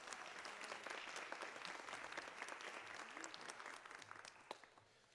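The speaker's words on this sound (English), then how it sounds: "Can we give our team here a big round of applause for that?" Audience applause, a dense sustained patter of many clapping hands lasting several seconds and fading slightly at the end.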